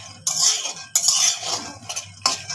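A metal spatula stirs peanuts roasting in a dry wok, three close, loud bursts of scraping and rattling nuts separated by brief pauses.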